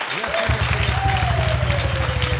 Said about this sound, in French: Merci de faire bien plus d'applaudissements pour lui.